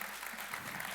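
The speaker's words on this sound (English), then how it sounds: "Another big round of applause for these girls." An audience claps at an innovation demo day event, a steady, fairly faint patter of applause lasting about a second.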